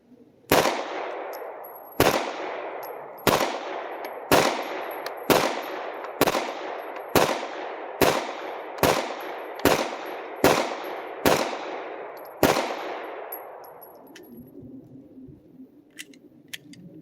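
Eleven sharp gunshots from a SIG P320 X Compact pistol at a shooting range, fired one at a time at a steady pace about one second apart, loud and close, each followed by a short ringing decay, then quiet.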